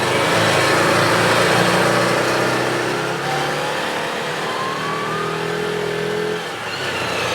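A car engine drones loudly and unevenly, its pitch rising and falling as it surges on and off from an electronic control fault, with a brief dip near the end.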